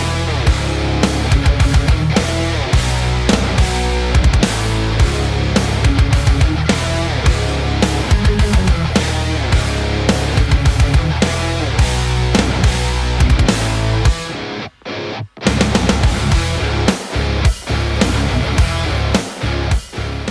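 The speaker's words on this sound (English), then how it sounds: "And that's what led me to create this modern metalcore kit, and you can just load this up and this is exactly how it will sound." Modern metalcore drum kit samples playing, a loud dense pattern of pounding kicks, snare hits and cymbals that drops out briefly near the end before resuming.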